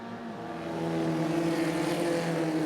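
A pack of Formula First single-seater race cars running down the back straight at Manfeild, their engines building to a steady, droning roar at middle distance.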